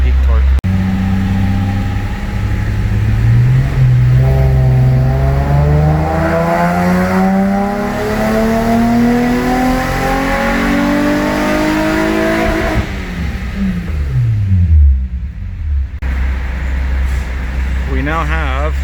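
A 2003 Nissan 350Z on a dyno, its engine revving in one long pull that climbs steadily in pitch before dropping back to idle. The sound is loud and close, with faint talk underneath.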